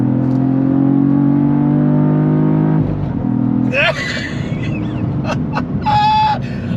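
A 2022 Cadillac CT4-V Blackwing six-speed manual's engine drones steadily at high revs, then shifts without lifting and keeps roaring with exhaust pops and bangs, a voice talking over it.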